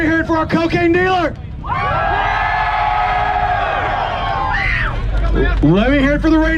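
A crowd at a drag strip import car race cheers and whoops together for a few seconds, framed by bursts of excited shouting voices before and after.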